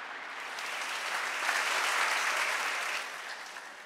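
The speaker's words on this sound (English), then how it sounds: "Let's give them a round of applause." A crowd at a school quiz championship applauds the contesting schools: a steady wash of clapping that swells toward the middle and tapers slightly, with no speech over it.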